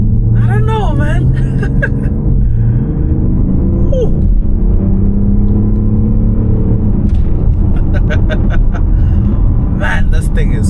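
A BMW X5 M50d diesel SUV accelerates hard, its engine rumbling with a rising whine heard from inside the cabin, while people talk over it.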